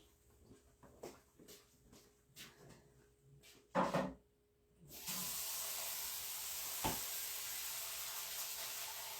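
A few knocks and clatters, then a steady rush of tap water pouring into a container, loud and continuous until the end.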